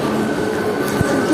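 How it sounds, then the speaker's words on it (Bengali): A train rolls into a station with a loud, steady rumble of wheels and carriages, a brief clack standing out near the end. "ট্রেন আসছে, ঢুকছে ওই যে সামনে সামনে।"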